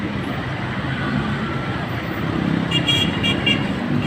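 Rush hour traffic passes below a footbridge, where cars and large vehicles such as jeeps and trucks make a steady, dense roar, and a few faint horn toots rise near the end.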